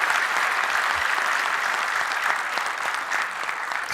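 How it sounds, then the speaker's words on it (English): A conference audience clapping loudly on request, a dense, constant burst of many hands at close range that holds steady throughout, with no speech over it. "Everyone clap really loudly."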